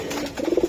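An army pigeon at a market sale coos briefly, a few soft, close, throaty pulses at the end of a short moment.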